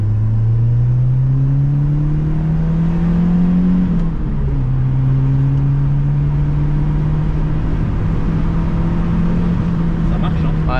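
A Renault 5 GT Turbo pulls hard from inside the cabin, its engine droning loudly and climbing in pitch, dipping at a gear change around four seconds, then rising again, with a voice speaking over it.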